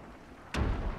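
A single deep, booming blast erupts after a quiet stretch, its low rumble lingering for a moment like a heavy cannon shot, from video game cannon fire.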